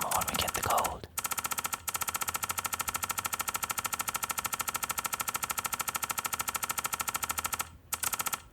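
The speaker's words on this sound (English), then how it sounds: "That's us cracking a safe." In a safe-cracking video game, a safe dial clicks in a rapid, evenly spaced run of ticks, steady and close, with a couple of short gaps.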